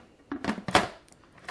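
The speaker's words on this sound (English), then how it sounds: "All right, I'm going to put the lid on it," A pressure cooker lid is set in place and twisted to lock, giving a few separate clanks and scrapes of metal close by, the loudest in the middle, with no talking.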